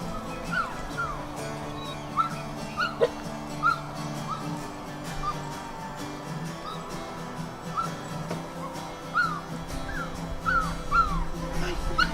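Newborn puppies and their nursing mother dog, found under a trailer, give thin high whimpers and short yips scattered through steady background noise, with occasional voices.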